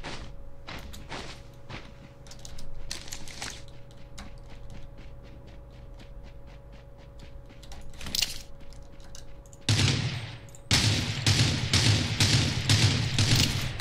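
Gunfire in Rules of Survival crackles through the whole stretch, rapid bursts of shots repeating in quick rhythm, growing louder and heavier near the end.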